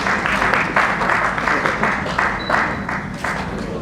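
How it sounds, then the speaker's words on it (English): Audience applause at a tax administration panel session at a Nigerian e-government summit: a sustained round of clapping from a crowd, moderately loud and steady throughout, with a voice faintly underneath. "Please give me a better round of applause."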